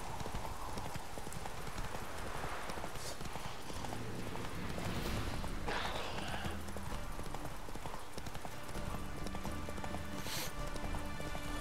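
The horse Roach gallops in The Witcher 3, a fast, steady clip-clop of hooves that runs throughout, close and clear, with a brief whinny and light ambient rain-like noise in the game world.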